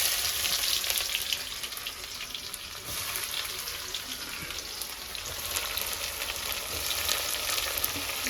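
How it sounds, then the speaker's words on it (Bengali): Onions dropped into hot oil sizzle and crackle steadily in a pan over a wood-fired cooking fire, a continuous close frying hiss with occasional stirring. "পেঁয়াজ দিয়ে দিচ্ছি।"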